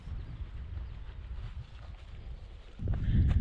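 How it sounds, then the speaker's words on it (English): Low, blustery wind buffeting outdoors on a coastal ridge near Swyre Head in Dorset, fairly quiet at first and then gusting louder and rougher near the end. "As you can probably hear, it was quite windy up on the ridge"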